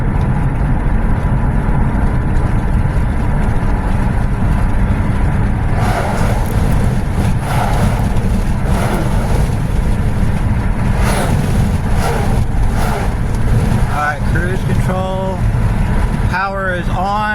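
A 2002 Pontiac Grand Am accelerates toward about 50 mph, its engine and road noise a steady loud drone from start to finish, with a voice talking over it near the end.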